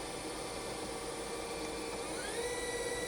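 Sub spindle of a 2007 Hyundai-Kia SKT-21LMS CNC turning/milling center whirring as it runs up through speeds, a steady whine with tones rising partway through, mid-level and close, with no talk.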